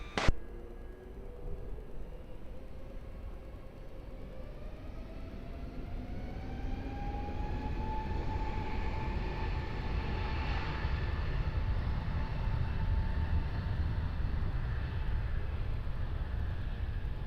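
An airliner taking off from runway 20 at Lisbon Airport, its engine roar swelling into a steady, loud rumble with a rising whine that builds and holds throughout.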